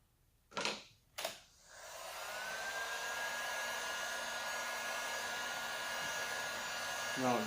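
Heat gun blowing steadily while post-heating a vinyl wrap on a Ski-Doo Summit 850 snowmobile, concentrating on the corners; two brief bursts, then a continuous close, loud airflow whine for several seconds.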